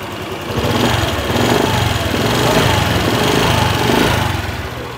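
Honda Vario 150 scooter engine idling steadily and running slightly rough, a close, continuous mid-pitched drone with a faint uneven pulse throughout.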